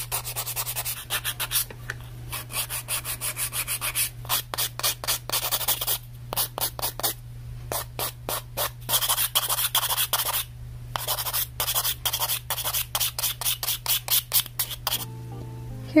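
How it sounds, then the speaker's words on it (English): Fingernails being reshaped with a nail file in quick, steady back-and-forth strokes, a close, rhythmic rasping that repeats for the whole stretch with brief pauses, over a faint steady hum and with no talking. "Take a file, reshape these nails."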